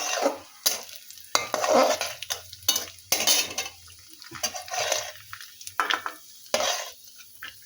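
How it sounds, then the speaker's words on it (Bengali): Loud bursts of sizzling white oil alternate with a spatula scraping and clattering against a pan in quick, irregular strokes. "সেই জন্য আমি সাদা তেলের মধ্যে এগুলো ভেজে তুলে নেব।"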